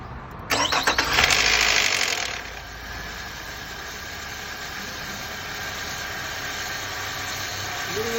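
A 2002 Nissan Altima that runs rough cranks with a loud rasping starter whir for about two seconds, catches, then settles into a steady low idle that holds on without any voices.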